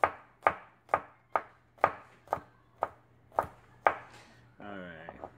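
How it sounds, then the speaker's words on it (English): A knife chops food on a cutting board for a lobster tail recipe, nine crisp evenly spaced strikes ringing out close and clear, followed by a short scraping sweep across the board. "So go ahead and chop this up really good."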